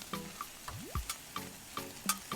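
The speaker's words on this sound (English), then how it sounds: "put our Carnitas on. We want to get that nice and crispy. Want to break that all up." Shredded slow-cooked pork carnitas sizzle on a hot Blackstone griddle while a metal spatula scrapes and taps, breaking the meat apart in a steady rhythm of close clinks over a constant soft frying hiss.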